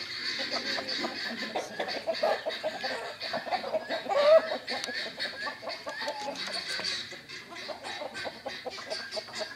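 Chickens clucking on a rural farm at dusk, a busy flock making overlapping soft clucks and chatter at moderate distance, continuous throughout.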